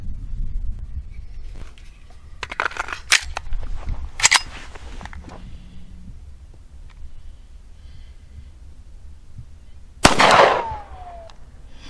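Hi-Point .45 pistol shots at an outdoor range ring out as several scattered cracks, spaced apart amid quiet background noise, with one louder report near the end.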